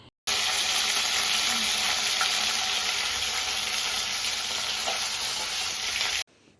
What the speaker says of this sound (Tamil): கருகாப்பிலை கழுவிட்டு போட்டனால இந்த குதிக்குது. கையிலலாம் எண்ணெய் தெரிச்சிருச்சு.